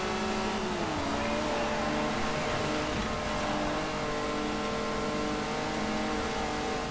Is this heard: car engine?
yes